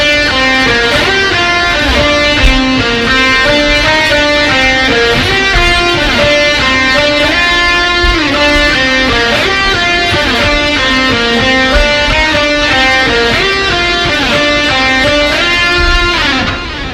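Electric guitar playing a catchy original melody from the song Fear Me, continuous and loud, with bright sustained notes and a driving steady rhythm throughout.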